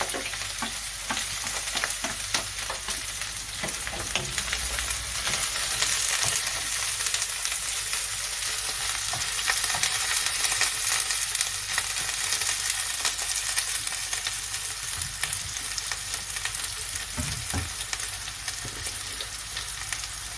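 Chopped onions, ginger, green chilies and curry leaves fry in oil with mustard seeds, a loud continuous hiss and crackle that stays dense and steady from start to finish.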